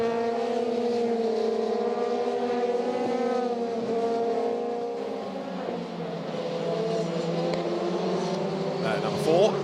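A pack of FIA Formula 3 European Championship cars accelerating away from the start of the second race at Silverstone, with layered engine notes rising in pitch together, loud and continuous.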